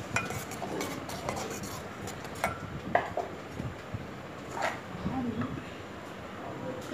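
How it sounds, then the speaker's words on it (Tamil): Semolina batter for sweet rava adai being mixed in a bowl, with a continuous close scraping and stirring punctuated by occasional light clinks of a utensil against the bowl. "கட்டிகள் இல்லாமல் நல்லா மிக்ஸ் பண்ணிக்கங்க."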